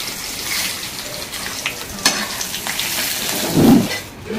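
Asafoetida is dropped into hot oil while gongura pickle is being made, giving a continuous hissing sizzle with a sharp metallic clink partway through and a brief low thud near the end.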